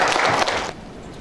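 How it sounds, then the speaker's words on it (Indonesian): A brief burst of applause from the audience at a doctoral promotion exam in an Indonesian postgraduate social sciences program, lasting under a second before cutting off. "tepuk tangan"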